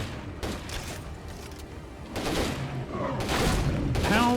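Gunfire in State of Decay 2 as a player shoots at a zombie: several bursts of shots spread over a few seconds, growing louder toward the end.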